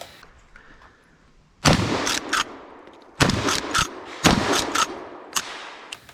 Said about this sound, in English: shooting this thing is so much fun because you have a lever action with a really chunky, large action that there's lots of noise coming off it